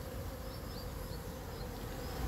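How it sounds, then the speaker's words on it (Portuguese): Italian honeybees swarm over buriti palm flowers gathering pollen, a dense continuous buzzing hum with individual bees whining past now and then, fairly faint and without speech. "As abelhas italianas se fartando com o pólen das flores do buritizeiro."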